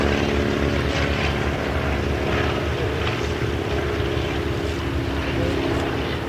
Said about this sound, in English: The Fokker 44 was designed by a man named Kurt Tunk